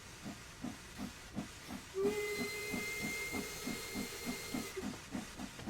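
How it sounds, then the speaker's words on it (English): Steam locomotive whistle in the Train Sim World 2 game, a sustained shrill multi-tone blast of about three seconds rising over the rhythmic chuffing and hiss of the moving engine, fairly loud and close. "I love the way the smoke comes out the whistle there as you blow it"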